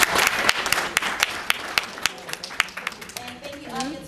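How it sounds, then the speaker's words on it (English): An audience applauds a Bible Bowl team at a quiz competition: a few seconds of steady hand clapping from a moderate crowd, fading toward the end as a voice starts speaking over it. "Let's give Ontario a round of applause."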